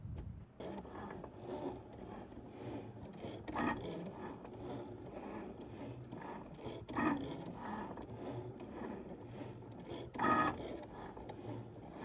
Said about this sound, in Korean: 지금 프린트가 다 된 상태이고요.